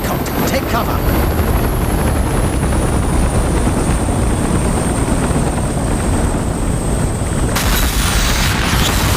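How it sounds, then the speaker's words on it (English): A helicopter in the VR video game Reach VR roars loudly and continuously, a dense rotor wash filling the whole stretch, shifting in texture near the end. "The helicopter, take cover!"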